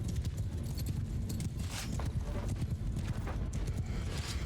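Galloping horses in the Mount & Blade II: Bannerlord video game, a dense, continuous drumming of hooves close by that holds steady throughout, with a faint whinny in the mix and no talk.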